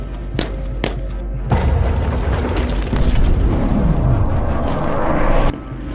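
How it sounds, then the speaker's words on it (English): Two sharp, loud blasts from a 12 gauge M4 shotgun loaded with double-aught buck ring out close by, followed by a heavy rumbling roar that lingers and fades. "This is a 12 gauge M4 shotgun with double-aught buck"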